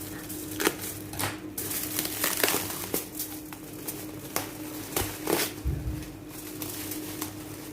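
Close crinkling and rustling of plastic wrapping in irregular bursts, with scattered taps and handling noises throughout, as a gift package is unwrapped.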